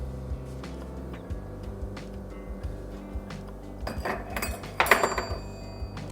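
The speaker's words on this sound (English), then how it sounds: "I'm gonna flip that second one." A spatula scrapes and taps in a pan while a cottage cheese pancake is flipped, with light clinks early on and a louder cluster of metallic knocks and scrapes near the end.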